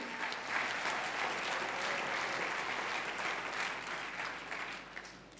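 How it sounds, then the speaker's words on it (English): A church congregation applauds together, a dense, steady wash of many hands clapping at moderate distance that holds throughout and eases slightly toward the end. "Can we clap louder and more beautiful, people of God?"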